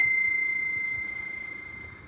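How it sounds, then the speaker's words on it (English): A single bright, high-pitched ring from a Westinghouse device, much like a bicycle bell, strikes once and holds a clear steady tone that slowly fades over about two seconds. "that sounds absolutely like a bicycle bell"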